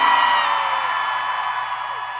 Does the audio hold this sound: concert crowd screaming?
yes